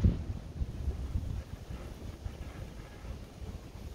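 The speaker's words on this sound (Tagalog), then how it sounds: "Ayan guys, malakas ang hangin." Strong winter wind buffets the microphone outdoors among tall trees, making a low, uneven rumble that is strongest at the start and then settles into a softer, steady roar.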